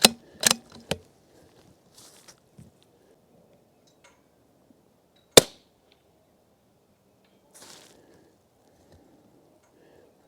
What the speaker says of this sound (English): I'm about to fire another one and see.